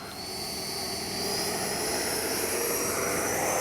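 A Freewing Avanti S V2 RC electric ducted-fan jet spools up on its takeoff roll, a steady high-pitched whine that grows louder and holds, heard outdoors and close.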